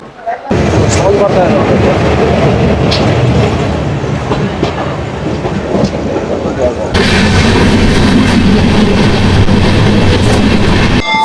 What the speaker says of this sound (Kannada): ಇದೆ ನೋಡಿ ಟ್ರೈನ್ ಫೈನಲಿ ಹುಬ್ಳಿಗೆ ಬಂತು ನೋಡಿ ನಮ್ಮ ಒಂದು ಟ್ರೈನ್